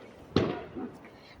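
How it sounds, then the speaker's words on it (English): Fireworks going off outdoors on bonfire night, one sharp bang with a brief rumbling tail, heard at moderate distance. "They're bringing out more fireworks."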